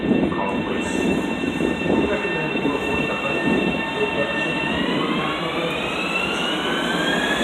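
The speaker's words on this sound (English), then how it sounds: "Let's watch the train leave" A Long Island Rail Road train rolls past steadily on the Main Line at Carle Place, with a continuous rumble and rising metallic squeals from the wheels, fairly loud and sustained throughout.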